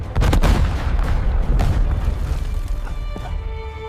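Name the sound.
grenade explosion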